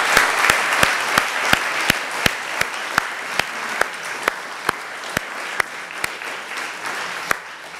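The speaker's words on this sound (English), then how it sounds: "Please join me to give them a big round of applause." An audience applauds seniors after electrical engineering senior design presentations, a steady wash of clapping with one close, loud clapper standing out in sharp regular beats throughout.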